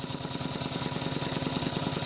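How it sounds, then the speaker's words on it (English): A small oscillating steam engine runs smoothly, its quick even chuffing beats repeating at a steady rapid rhythm, fairly faint and close, with no talk. "That's the little oscillating engine running."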